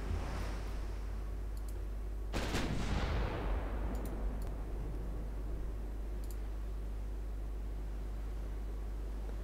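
Warship gunfire in a night battle in the naval game Ultimate Admiral Dreadnoughts. A single heavy cannon blast rolls out over a constant low rumble of sea and engine noise, with faint clicks before and after.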